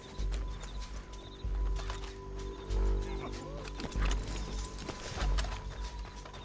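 Horse hooves clip-clop in Red Dead Redemption 2, rhythmic thuds of a horse moving over ground with occasional whinnies, under game music and speech from characters.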